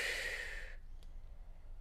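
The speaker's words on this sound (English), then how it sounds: "Breathing out as you lift." A long breath out during a yoga stretch into downward dog, soft and close, an airy exhale that fades after under a second, then quiet room tone.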